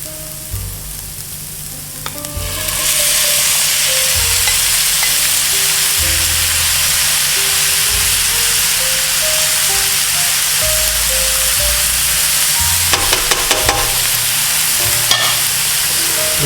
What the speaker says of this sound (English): So the next thing I'll do is add the tomato.